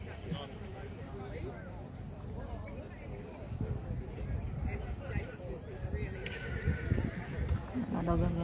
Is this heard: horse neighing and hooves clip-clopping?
yes